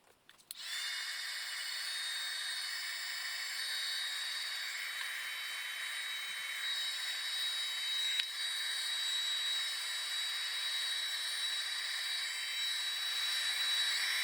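A heat tool or dryer blows a steady, loud airy hiss while drying paint on a craft sky background, starting abruptly and running continuously at close range without talk.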